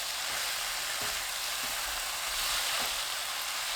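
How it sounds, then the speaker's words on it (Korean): Bok choy stir-fried over high heat with soy sauce and chili oil, giving a loud, dense, continuous sizzle with a few soft stirring knocks underneath and no voices. "1분 후 진간장 1큰술 반, 고추기름 1큰술 넣고 1분 볶습니다"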